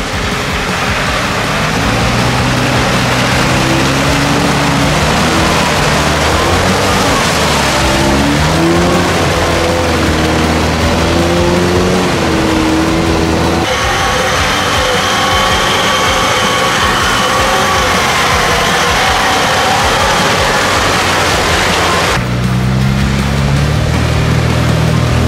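Niva and UAZ off-road vehicles grind through deep mud and puddles toward ravines on a frozen track, engines droning loud and steady with revving swells, continuous and close throughout.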